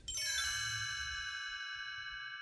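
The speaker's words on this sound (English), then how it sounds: "You will know it is time to turn the page when you hear the chimes ring like this." A bright metallic chime rings once and then sustains and slowly fades, clear and alone, as a page-turn signal for a read-along book.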